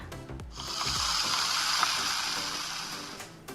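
A steady, dense hiss of fizzing cola bubbles, close and continuous, crackling softly like carbonated soda poured into a glass; a sound effect on a realme 10 Pro 5G Coca-Cola Edition phone.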